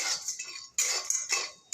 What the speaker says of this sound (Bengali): গরম হয়ে গেছে, শুকনো খোলায় সব ভাজে নেব।